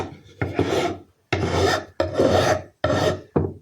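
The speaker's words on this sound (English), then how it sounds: "I've decided to pop these out and file and sand around here" Carbon fibre rudder stock for a sharpie boat being filed and sanded by hand, with five close, loud rasping strokes separated by short pauses.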